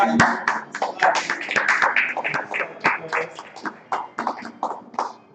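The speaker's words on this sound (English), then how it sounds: "Clap it up." Hands clapping among a gathered crowd at a Feast of Tabernacles gathering, a dense run of sharp claps and taps with voices mixed in throughout.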